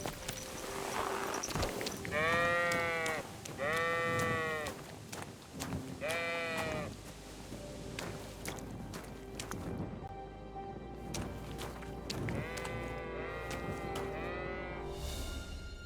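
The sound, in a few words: sheep bleating in video game Kingdom Come Deliverance II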